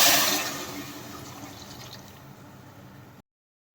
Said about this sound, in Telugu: నేను ఇప్పుడు నీళ్ళు వేసేస్తాను